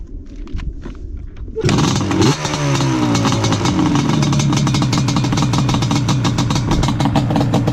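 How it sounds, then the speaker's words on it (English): A Yamaha Banshee ATV engine starts after a brief quiet rustle, then runs loud and close with a raspy, buzzing two-stroke idle that holds steady through the rest. "Let's start it up. It's a Banshee video. You know how they sound, they're cool. So just leave that running."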